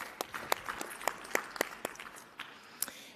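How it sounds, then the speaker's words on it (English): Scattered audience applause at a plenary session, a thin patter of individual claps with a few sharper hits, fairly sparse and fading toward the end. "One more round of applause."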